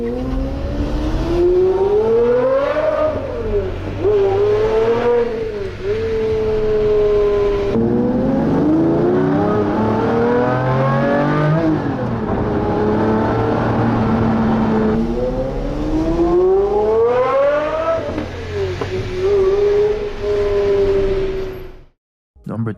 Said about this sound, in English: combines like deep bass at low RPM with a metallic scream at the top end, creating one of the richest exhaust notes ever recorded